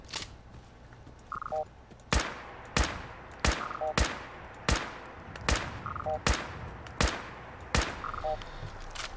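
Gunfire from a rifle in the video game Fallout 4: a steady series of sharp, loud single shots spaced roughly every half second to second, with faint beeping interface tones between them.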